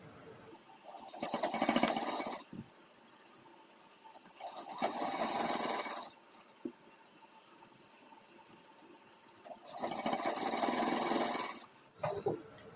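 Sewing machine running in three sustained bursts, stopping and starting, as a boot-style finishing stitch is sewn along the top of an Afghani salwar waistband; steady, close mechanical whirring with pauses between runs.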